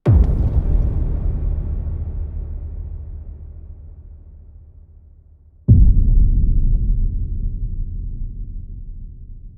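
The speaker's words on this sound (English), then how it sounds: "so that gives us these really nice low rumbles" Designed low boom with long reverb tail, a deep rumbling hit that slowly decays, followed by a second loud boom that cuts in abruptly and rumbles on, produced with the UVI Orbit synth.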